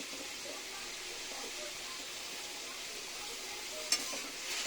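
Water lily stems going into a frying curry, with a steady broadband sizzle throughout, close and even, and one brief sharp crackle near the end.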